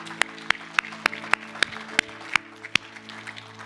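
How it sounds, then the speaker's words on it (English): A church congregation claps in praise, with sharp, evenly spaced claps about every third of a second standing out over a sustained low musical hum. "let's give God a hand clap of praise for that"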